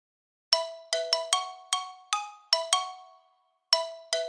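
A phone ringtone plays late at night as a run of bright, bell-like chiming tones, each struck note decaying quickly, arriving in an uneven sequence with a short pause before it starts again. No one speaks over it.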